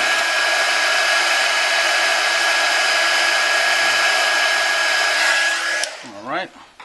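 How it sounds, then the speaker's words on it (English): A heat gun blows steadily on a Kindle Fire HD tablet to loosen its grounding plate, a loud continuous whooshing hum with a faint whine that cuts off near the end as the motor winds down. "add a little heat here to loosen the grounding plate"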